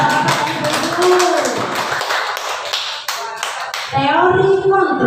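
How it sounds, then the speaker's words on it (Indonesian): A group of teachers at an elementary school gathering claps in a busy, rhythmic patter that swells and fades. Voices speak over and between the clapping, with a spoken phrase breaking through near the end. "tepuk tangan dulu untuk bapak-bapak dan ibu"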